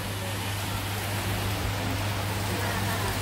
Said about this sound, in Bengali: এই দেখেন বৃষ্টি হচ্ছে